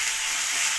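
Paste of ginger, garlic and chili frying with onions in a pan gives a steady, close hiss of sizzling oil that runs evenly throughout, with no voices.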